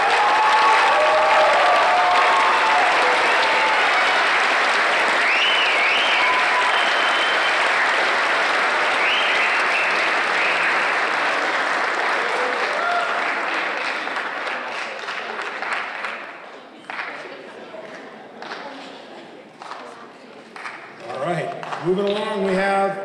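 Sustained audience applause for middle school students at an awards ceremony, loud and dense for about fifteen seconds, then thinning into scattered claps and a few voices.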